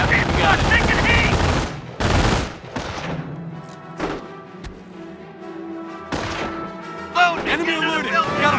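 Gunfire from the Company of Heroes video game, set in the Normandy invasion, with dense machine-gun bursts and heavy blasts breaking off and returning in rapid volleys while game voices shout over the battle.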